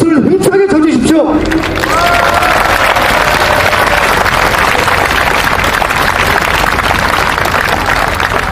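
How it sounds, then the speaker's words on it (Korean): A large crowd applauds and cheers at an outdoor political rally marking the June 10 uprising commemoration, starting after a brief spoken phrase and swelling into loud, sustained, dense clapping that continues steadily to the end. "이런 성스러운 자리에 여러분 축복의 박수를 힘차게 쳐주십시오."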